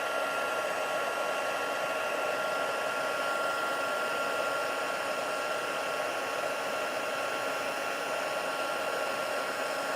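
A heat embossing tool blows a steady, even whir of hot air while melting marshmallow puff embossing powder, close and constant with no speech.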